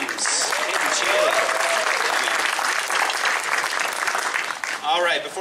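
An audience applauding members of a school jazz ensemble at a concert, steady dense clapping throughout with a voice speaking near the end.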